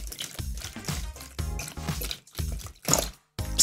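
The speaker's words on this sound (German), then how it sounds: "Hier haben wir handelsübliches Wasser und das kippen wir in diese Form rein" Ordinary tap water is poured into a small craft mold, a wet, splashing trickle with dripping and squishy liquid sounds that rises and falls in uneven spurts, then breaks off briefly near the end.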